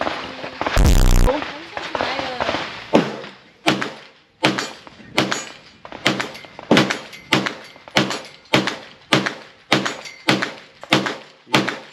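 Shots from a Walther PDP Pro SD 5.1-inch pistol at a range, a loud close blast followed by a steady string of sharp, evenly spaced cracks.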